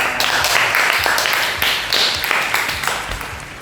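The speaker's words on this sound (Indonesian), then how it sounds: "Tepuk tangannya dulu dong ya." A few people on a podcast clap for their guests, a loose patter of close, uneven hand claps with some light movement and murmur underneath.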